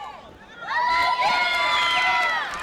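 Wrestling crowd cheering for Kenny Kalypso during a WrestleRave championship match, a sudden swell of loud shrill cheers and whoops after a quieter moment, sustained for a couple of seconds.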